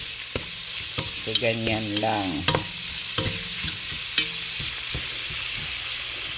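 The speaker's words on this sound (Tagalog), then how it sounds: "Tapos imikos-mekos lang natin." Food frying in a hot non-stick pot sizzles steadily while a utensil scrapes and stirs it in uneven strokes, with someone speaking briefly over the cooking noise.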